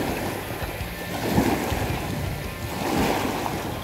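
Small waves lap against the water's edge near a lake boat ramp during a bass fishing trip, a steady wash of soft surf and wind noise with gentle swells, moderately faint and without talk.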